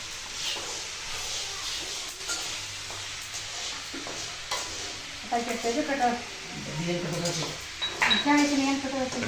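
Fenugreek seeds and onion dry-roasting in a pan for a chili masala, a soft sizzle with scraping and occasional clinks of utensils against the pan, with people talking over it.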